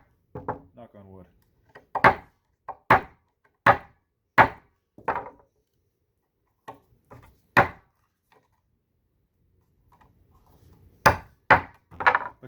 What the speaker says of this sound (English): with a very simple chisel like this flat chisel, you can do a tremendous amount.